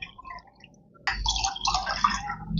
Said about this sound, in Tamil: இப்போ இதில் ரெண்டு கப் அளவுக்கு தண்ணி விட்டுக்கிறேன்